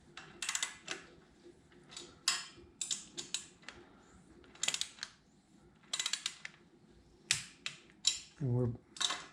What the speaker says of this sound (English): we're torquing these to 18 foot-pounds